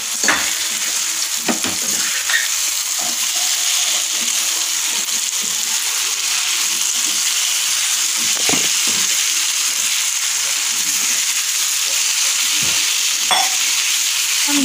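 Paneer tikka pieces fry in a pan with a loud, continuous, bright sizzle that stays even throughout, marked by a few faint taps and scrapes from turning them.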